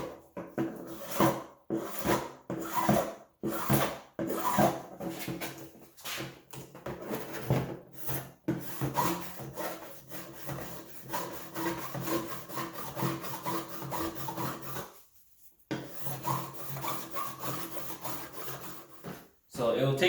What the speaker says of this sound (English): I'm just going to file this down nice and flat first